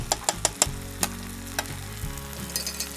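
Ghee and water going into a pan of vermicelli biryani, with a few sharp clinks and taps against the pan over a steady frying sizzle, close up.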